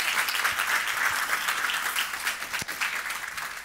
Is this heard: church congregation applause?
yes